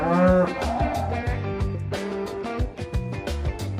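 A cow moos loudly several times, long low calls following one another closely.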